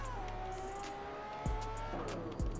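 A car is driven in GTA San Andreas online on a mobile FiveM server, its engine holding a steady droning tone that shifts pitch, broken by two short tire squeals.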